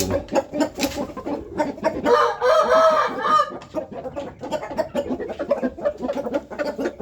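A busy flock clucks continuously, and one rooster crows loudly through the middle of it. The whole scene is close and lively.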